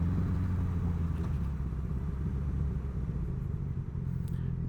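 Yamaha XJ6 motorcycle being ridden on the road, a steady low engine rumble with wind noise that holds throughout at a fairly quiet level, no voices.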